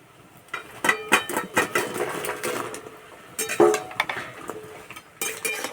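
A spoon stirs semolina sweets through thick sugar syrup with cardamom powder in a pan, making close scraping and clinking strokes in busy bursts, with a brief lull midway before the stirring resumes.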